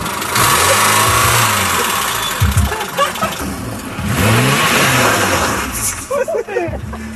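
A car engine revs in bursts and settles back toward idle at close range, with excited voices talking and shouting over and between the engine swells.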